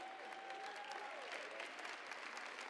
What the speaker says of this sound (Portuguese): Você pode ficar de pé e dar mais uma salva de palmas ao Senhor Jesus.